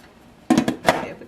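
A lid goes back onto a cooking pot of squash, a few quick clanks and knocks in close succession, sharp and near, with a final rattle as it settles, no voices.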